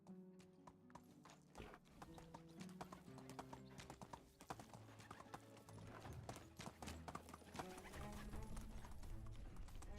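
Horse hooves clip-clop in a steady rhythm in Medieval Dynasty, close and clear under background music, with a brief whinny.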